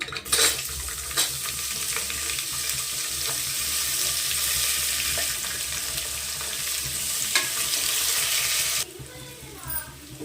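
Onions fry in hot oil for palak pulao, a loud continuous sizzle with a few stirring clatters that cuts off near the end, leaving brief quieter kitchen sounds.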